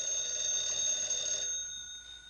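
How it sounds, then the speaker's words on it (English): A telephone rings in a 1955 crime film, a steady electronic-sounding ring held for about a second and a half, then cut off and fading into a quiet room hum. "Get that phone, Eddie."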